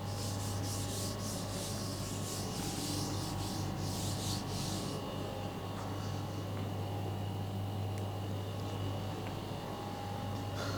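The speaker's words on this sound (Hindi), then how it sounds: "तो बेटा एक बार इसको रब कर देते हैं।" Writing is rubbed off a classroom board in a continuous, even scrubbing swish with a low steady hum underneath, faint and unbroken throughout.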